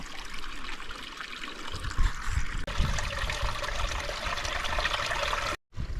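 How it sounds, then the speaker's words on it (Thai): Water trickles and flows steadily in a forest stream near a waterfall, a continuous close wash of liquid sound with a brief dropout near the end. "นี่น้ำไหล"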